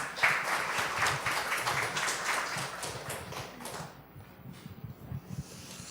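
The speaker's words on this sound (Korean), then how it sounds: "우리 박수로 한번 맞이하겠습니다" Church congregation applause at a Sunday service, moderate clapping that thins and fades after a few seconds, leaving sparse scattered claps against a quiet room.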